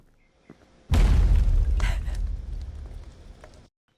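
A video game explosion goes off as a single loud, close boom with a sudden onset and a rumbling tail that fades over a few seconds before cutting to silence.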